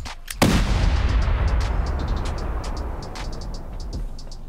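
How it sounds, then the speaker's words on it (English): A rocket launcher fires in a video game with a sharp loud blast followed by a long roaring rumble that slowly fades. "All right, rockets it is."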